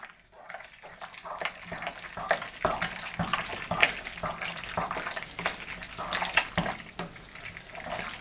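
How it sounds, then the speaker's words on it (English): Pasta being mixed into a pasta e fagioli sauce in a pot, giving a wet, sloshing scrape with soft clatters and sizzle-like hiss at close range, moderately quiet and without talk. "We'll get the last of the pasta in, then we'll mix all of this up."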